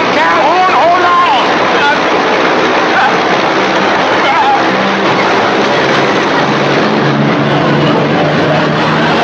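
A small propeller plane taking off from a hangar in a 1955 film drones loudly and steadily throughout, a constant roar with a few voices speaking faintly underneath.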